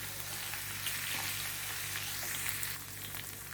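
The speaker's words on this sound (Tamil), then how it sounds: "இது நல்லா ஃப்ரை ஆகணும்." Ginger and green chili frying in a pan of oil for venpongal, a steady close sizzle running throughout with no talk.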